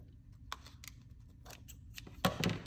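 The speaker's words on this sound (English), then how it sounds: "Use a pair of scissors and kind of just" Scissors trim paper book-binding materials with a few separate crisp snips up close, ending in a louder double cut, no talking.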